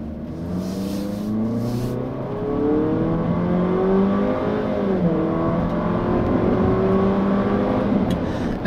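A 2016 Jeep Renegade Trailhawk with a 9-speed automatic transmission accelerates hard, engine pitch climbing steadily and shifting through gears, heard from inside the cabin with a continuous loud drone and no talking.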